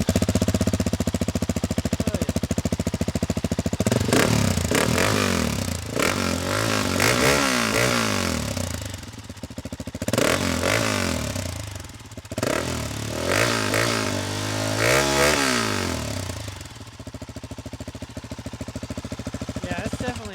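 A KTM 690 Enduro R single-cylinder motorcycle with a Vinci exhaust and spark arrestor runs close by with a loud, chattering engine note, revving up in several bursts between stretches of rough idle.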